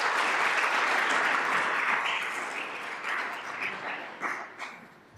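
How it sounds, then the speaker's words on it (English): An audience at a school district governing board meeting gives a warm round of applause for honored high school students, steady clapping that slowly thins out and fades toward the end. "So let's give them a round of applause."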